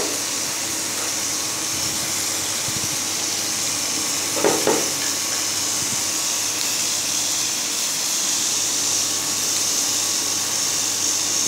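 Hilsa fish roe fries in a pan with a constant, moderate sizzling hiss and a brief stir or clatter near the middle, with no talking.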